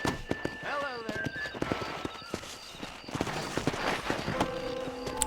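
Horse hooves clip-clop at a walk in the Red Dead Redemption video game, a light rhythmic patter under character dialogue and ambient game sound.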